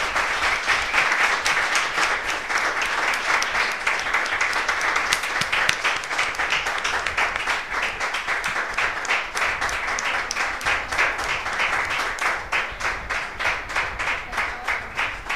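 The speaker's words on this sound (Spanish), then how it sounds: "Fuerte el aplauso al Señor." A church congregation claps steadily and loudly for a long stretch during a worship service, a dense, continuous applause.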